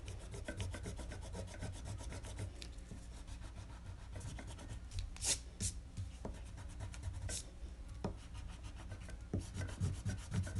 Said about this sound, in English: And then you can erase all your lines.